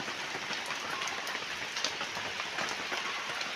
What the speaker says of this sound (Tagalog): Ganito po lamang yung ambon.